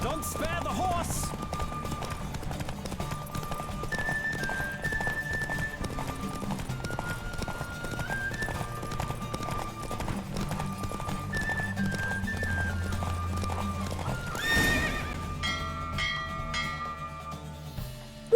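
In a Witcher 3 horse race, steady hoofbeats drive on at a full gallop beneath sustained game music. Near the end comes a brief louder burst that may be a neigh, followed by fading ringing tones.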